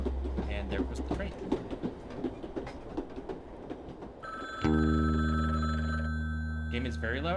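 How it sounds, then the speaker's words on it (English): A street phone rings in the video game Frog Detective, a steady electronic trill starting midway, loud and alone after a stretch of busy game sound. "This is a random phone on the street. Why did you assume it's ringing for you?"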